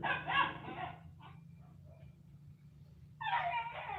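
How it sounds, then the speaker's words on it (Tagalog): A dog barks in a few sharp, nearby bursts with short yips and whimpers between them, set against a quiet rural background. "Yun namang naririnig nyo, kahol, kahol ng aso."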